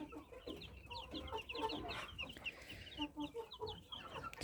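A sick young chick and other chickens on a farm, heard close up as soft repeated clucks and peeping calls in irregular bursts over quiet background noise.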